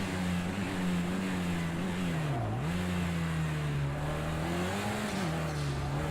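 A Mercedes AMG A45 touring car in the Project CARS 2 racing game at Knockhill gives a steady, droning engine hum that dips briefly as the revs ease, then climbs and holds again.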